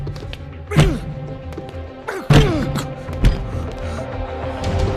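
A door is forced in with three heavy, booming thuds spaced a second or so apart, each blow ringing briefly, over a low background of room noise and faint voices.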